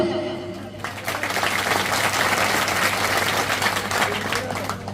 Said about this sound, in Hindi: अब नहीं बजा रहे हो, अभी भी बजाओ।